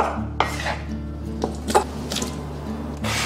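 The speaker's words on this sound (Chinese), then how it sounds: "再把番茄给它切成小块" Tomatoes are cut into small pieces on a board, giving a few sharp, close knife knocks at irregular intervals over a quiet kitchen background.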